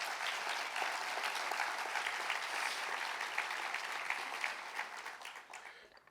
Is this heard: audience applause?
yes